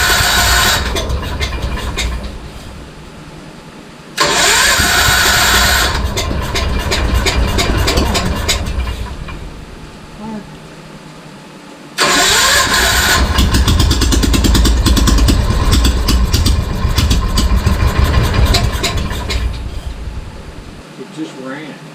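A cheap used Bobcat skid steer engine cranks and starts repeatedly, settling into loud, rough idling between bursts, with speech in the clip.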